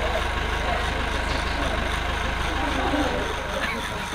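A cheap dollar-store hair trimmer runs with a steady, low, tired-sounding buzz close by, its rough drone holding even from start to finish.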